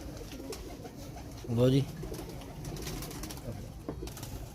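Grey breeder pigeons coo once, briefly and clearly, over a low murmur of background noise, with someone speaking nearby.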